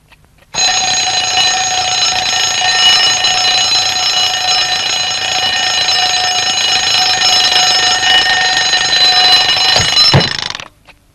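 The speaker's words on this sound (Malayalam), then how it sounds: "ഇതെന്താ ഇപ്പൊ അലാറം അടിക്കുന്നു?" An alarm clock rings loudly and continuously for about ten seconds, a bright metallic bell tone that starts abruptly and cuts off sharply near the end, indoors with no talk over it.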